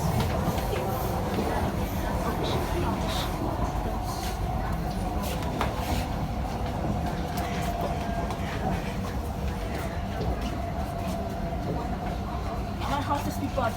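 An SMRT C151A metro train running on the line near Jurong East, with a steady, dense rumble of wheels and motors and faint clicking, heard close and continuous throughout with no speech.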